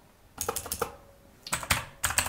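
Fingers typing on a computer keyboard while coding in Python, giving short bursts of quick, close, crisp key clicks separated by brief pauses, with no voices.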